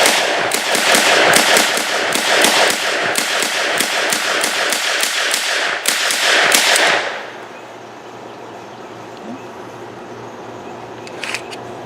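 Gunfire from a Czech SA-24 semi-auto carbine at an outdoor range. Rapid, loud, sharp reports come in an irregular string for about seven seconds, then stop, leaving a quiet background with faint clicks.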